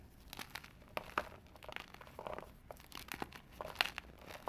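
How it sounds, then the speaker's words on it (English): A block of gym chalk being carved, giving crisp crumbly crunches and scraping crackles in an irregular close-up stream, quiet overall with a few sharper snaps. "has a good crunch."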